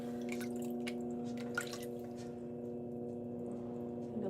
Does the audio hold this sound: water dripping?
yes